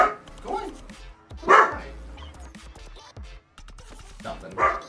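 A dog named Ruben barks indoors: a few sharp, separate barks spaced seconds apart over low background noise.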